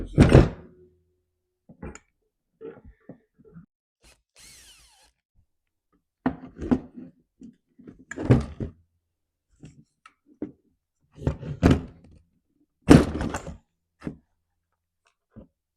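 Parts being pried and pulled while the fuel tank comes off a Husqvarna 345 chainsaw, with scattered knocks, clunks and scrapes of plastic and metal at irregular intervals between quiet gaps, close and fairly loud.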